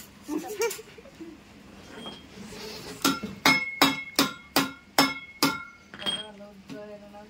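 Metal tin box being pried open with a screwdriver: a run of sharp, ringing metallic clinks and knocks, about ten strikes in quick succession, close and fairly loud, after some quiet handling noise.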